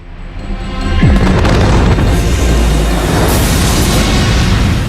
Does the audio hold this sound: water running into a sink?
no